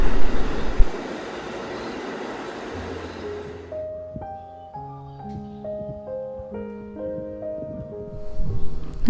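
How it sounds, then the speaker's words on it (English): Subway train on a ride from Brooklyn to Manhattan, with a loud rumbling roar of the car over the first few seconds giving way to a run of steady tones and chimes, no talk. "I'm here in Brooklyn and I'm taking the train out to Manhattan"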